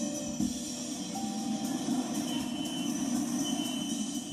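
A Bangkok metro train rolls along with a steady, close rumble and a constant mechanical hum, with faint high squeals over the top and no pauses or voices.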